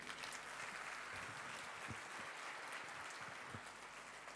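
Congregation applauding at a Christmas Mass in church, a dense, continuous roar of clapping that fills the whole stretch at steady loudness, with no voices over it.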